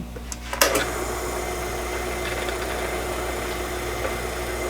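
A steady drill whine runs continuously after a couple of brief clicks at the start, a dense mechanical grinding hum without pauses, drilling into a metal bar held in a self-centering vise.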